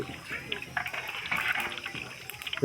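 Boondi batter drops sizzle and bubble in hot oil while being fried for a festive boondi sweet, a steady crackling fizz with a few louder pops near the end, close and moderately loud, with a voice faintly talking underneath.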